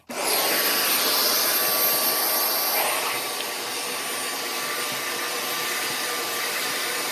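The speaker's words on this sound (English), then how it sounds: "So now the sprayer will come out here, and let's go ahead and start cleaning." BISSELL SpotClean Pet Pro deep cleaning machine running steadily, a loud continuous motor whine with suction hiss that starts abruptly and holds nearly level throughout, dipping slightly partway as it works.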